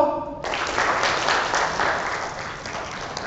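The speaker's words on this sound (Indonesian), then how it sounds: "Sekarang juga saya minta tepuk tangan semua." After a brief tone, a room full of people claps hands together in a steady wash of applause during an anti-drug outreach talk, moderately loud and continuous.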